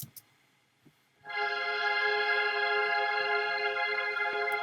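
After a brief quiet start with faint clicks, a bright, steady synthesizer pad swells in and holds a sustained chord.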